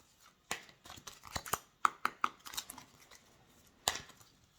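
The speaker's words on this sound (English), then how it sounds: "And shuffle." Tarot cards are shuffled up close, giving a string of crisp, papery riffles and slaps in uneven bursts, with a sharper snap near the end and no talking.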